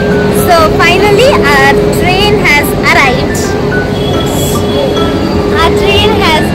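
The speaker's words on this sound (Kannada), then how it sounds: "ಆ ಟ್ರೈನ್ ಹ್ಯಾಸ್ ಅರೈವ್ಡ್" A train arriving at Yeshwantpur railway station fills the platform with a loud steady rumble and roar, while overlapping voices and announcements chatter throughout and a high sustained tone hangs over the scene.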